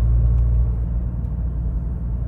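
A used car with an engine fault, jerking and shuddering as it drives, heard from inside as a loud, steady low rumble with slight uneven surges and no clear talk.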